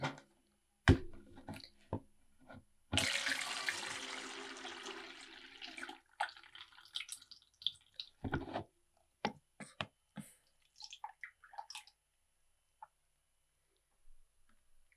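Salty water is drained off a zinc amino acid mixture, a brief splashing pour of about three seconds with scattered clinks and taps of glassware before and after, close and fairly quiet.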